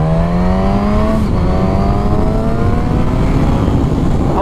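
A 2019 Suzuki GSX-S 1000 motorcycle accelerates hard, its engine note rising steadily through the gear, loud and close throughout with a shift partway through.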